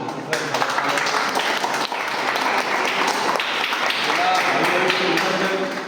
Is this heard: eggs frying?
no